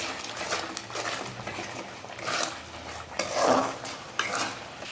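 Fish stirred in a pan with salt and chili added, giving steady scraping and light frying hiss with a few sharper utensil scrapes and clinks, close and moderately loud, no talking.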